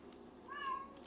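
A cat gives a single short, quiet meow indoors during a linoleum block carving session, heard alone.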